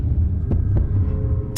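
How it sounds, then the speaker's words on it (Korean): A heartbeat sound effect at a truck launch event: deep, throbbing low pulses repeat steadily under a humming drone, with a sharp sound at the very end. "심장 박동이 빨라집니다"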